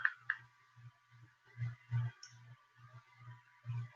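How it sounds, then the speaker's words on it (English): Computer keyboard typing, a run of soft irregular clicks and taps at close range over a steady faint hum, with no talking. "I'm typing it in now."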